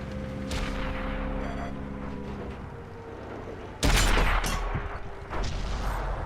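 Tank cannon fire in the World of Tanks console game from an Object 140 tier 10 medium tank in a city battle, with a sharp heavy boom midway over continuous engine rumble and battle noise.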